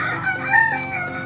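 A chicken clucks and crows nearby during a flood, a short, loud, strained call with a wavering tone.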